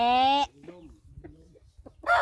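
A rooster crows loudly up close, followed by soft clucking from chickens, then another crow begins at the end.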